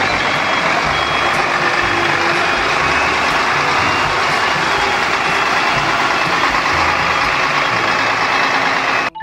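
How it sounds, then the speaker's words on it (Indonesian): A concrete mixer truck's engine runs steadily and loudly nearby, a dense continuous rumble with a faint repeating beep riding over it. "Wow, lihat teman-teman, di sini ada truk molen."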